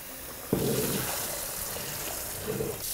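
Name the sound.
cold tap water running over cooked rice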